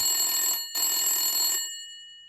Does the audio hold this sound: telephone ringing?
yes